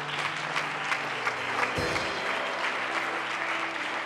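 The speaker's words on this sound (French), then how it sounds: "encourage-moi par des acclamations." A church congregation applauds steadily, a dense, even patter of many hands clapping in a room, with faint voices mixed in.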